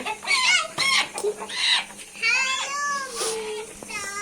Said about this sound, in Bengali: ভালো করে মোরগ ধরছে